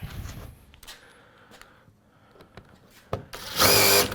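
A power drill drives screws into holes while an electric heater and duct transitions are fitted on a Unico modular HVAC system, with short clicks and bursts ending in a loud, sustained whirring run.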